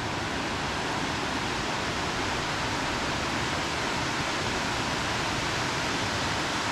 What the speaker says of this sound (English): here's the waterfall we were looking through the trees at